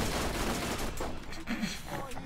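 Guns fire rapidly in the co-op shooter video game Borderlands, a dense burst of shots mixed with a player's voice.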